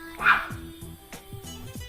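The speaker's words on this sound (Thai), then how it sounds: "จะมีเสียงสุนัขรบกวนหน่อยนะคะ" A dog barks a few times with short, quick yips and whimpering barks in a rough rhythm, moderately loud and somewhat close, with no other clear sounds.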